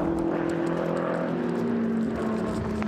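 GT race cars from the Blancpain GT Sports Club sweep past the pits at Paul Ricard, a continuous loud engine drone with sustained tones that slide gradually in pitch as the cars go by.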